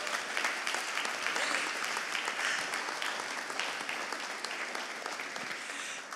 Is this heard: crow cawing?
no